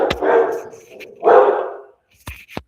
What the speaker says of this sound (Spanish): no sé si sintieron el ladrido